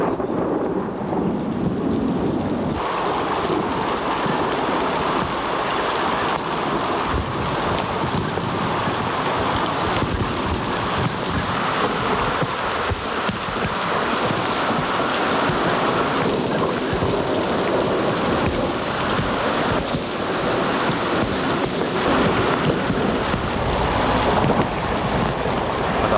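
Stormy wind and heavy rain roar without pause over high waves crashing at a salt lagoon beside the sea, a loud, dense wash of noise throughout.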